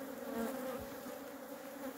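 Honey bees swarming around an opened hive, a dense, continuous buzzing hum of many insects very close and loud, with no one talking.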